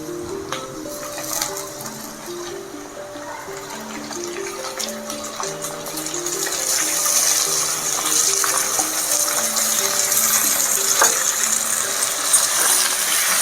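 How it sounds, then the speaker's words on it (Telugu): Chicken pieces tipped into a pot of fried onions for biryani set off a rising, steady sizzle that grows louder partway through, with soft background music underneath. "ఆనియన్స్ ఫ్రై అయింది. ఇప్పుడు మనం ఇందులో చికెన్ యాడ్ చేసుకుంటాము."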